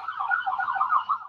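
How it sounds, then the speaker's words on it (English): A wavering emergency siren wails steadily at moderate distance, rising and falling without any other sounds. "I'm sorry for the sirens"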